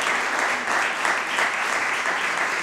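An audience at an official sponsorship ceremony in Tortosa gives dense, steady applause that fills the whole stretch with even, close clapping.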